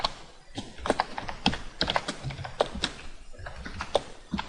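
Someone types code on a computer keyboard, the keystrokes close and rapid in uneven bursts with short pauses between them. The clicking is heard alone, without talk.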